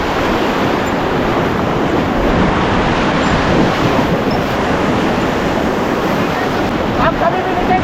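River rapids churn around a raft during a rafting ride near Manali, a loud, continuous rush of water with wind buffeting the microphone throughout.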